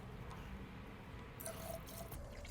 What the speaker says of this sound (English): let's fill up our coolant with water